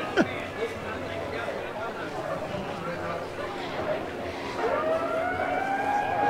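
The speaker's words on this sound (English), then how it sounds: "the DJ keeps playing that air raid siren sound effect for some reason" Outdoor crowd chatter and engine noise at a car show, with an air raid siren sound effect played by a DJ, its rising-and-falling wail swelling in the background toward the end.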